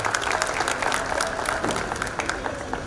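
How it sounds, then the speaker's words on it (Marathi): An audience at a Pune school gathering applauds loudly and steadily, a dense close crowd clapping that lasts throughout with faint voices mixed in. "तिच्यासाठी टाळ्या जोरादार व्हायला हव्यात."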